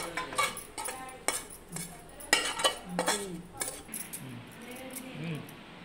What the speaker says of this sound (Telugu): ఇప్పుడు ఒక గిన్నెలోకి తీసేస్తున్నాను అన్నమాట.